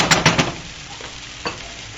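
Eggs stirred and frying in a pan for pork fried rice, with three quick utensil knocks at the start, then a soft steady sizzle and one more clack near the middle.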